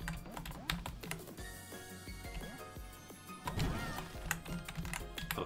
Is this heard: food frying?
no